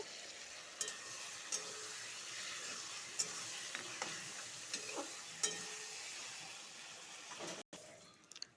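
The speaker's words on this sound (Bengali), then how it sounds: "মশলাটা ভাজা হয়ে গেছে" Ground coriander, ground cumin and chili paste sizzle steadily in a hot pan, with a few scraping stirs and light clicks of a utensil, close and unaccompanied by talk.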